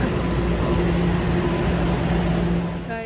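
Steady rumble and hum inside a moving train, a constant broadband roar with low droning tones throughout, easing slightly at the very end.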